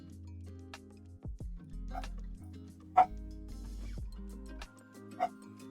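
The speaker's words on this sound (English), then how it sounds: "I don't know if dog's barking." A dog gives a couple of short, sharp barks, spaced a few seconds apart, over a quiet background of low sustained tones.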